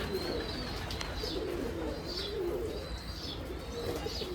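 A female Sakhi Teddy breeder pigeon giving repeated soft, low cooing calls at an even rhythm, close by against a steady background hum.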